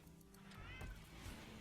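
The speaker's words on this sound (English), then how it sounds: "I don't know if you heard, but my cat says hi" A cat gives one short rising meow, faint and close, over low background sound from a video game.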